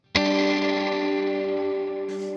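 A guitar chord played through a Walrus Audio R1 reverb pedal on its BFR big reverb setting, struck once and left to hang in a long, dense, sustained wash of reverb that barely decays, with a bright swell near the end.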